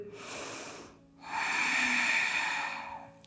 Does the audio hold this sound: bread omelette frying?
no